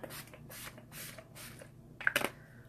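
Several short hissing bursts of LimeLight 10 Years Younger makeup finishing spray misted onto the face, close and fairly quiet, followed by a brief rustle and click.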